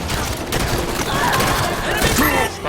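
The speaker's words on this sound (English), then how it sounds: "Taking fire from the ledge!" Gunfire from a Halo 5 battle rattles in dense, continuous bursts under layered game effects and music, with shouted voices mixed in throughout.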